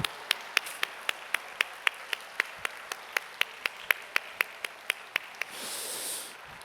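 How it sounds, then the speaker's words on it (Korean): Church congregation applause heard as a steady run of sharp, evenly spaced single claps, like one or a few people clapping in rhythm, ending in a short swell of brighter noise. "우리 박수로 한번 크게 하나님과 옆에 계신 분들께 감사하겠습니다."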